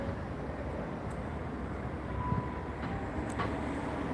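A CrossCountry Class 170 diesel train at a Gloucester station restarts and pulls away, a steady low engine rumble and rail noise continuing throughout, with a faint tonal whine and brief higher clanks rising near the end.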